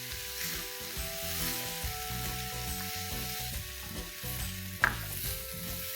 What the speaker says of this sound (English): Sometimes when you're stir frying the chicken mixture like this, it can become a little bit dry.